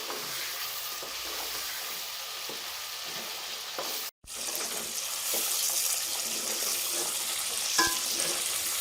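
About half a kilo of chicken fries in a pan with salt, giving a loud steady sizzling hiss broken by a momentary dropout, then continuing with soft stirring clinks.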